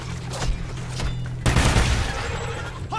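A burst of gunfire in the video game Ghosts Exodus: scattered shots, then a heavy overlapping volley erupts halfway through and rumbles on, loud and close.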